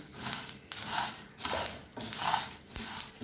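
Rice grains dry-roasting in a pan crackle and pop in several rough bursts, with scraping and rustling between them. The sound is close but fairly quiet, and no voices are heard.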